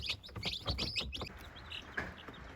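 Week-old chicks cheep in a high, busy flurry of short peeps that crowd together early, then thin to scattered calls over low rustling.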